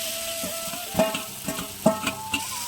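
Potato pieces and freshwater snails drop into a sizzling, well-cooked spice paste in oil, making a steady fry hiss broken by several sharp clacks and scrapes as they land and are stirred, with no talking.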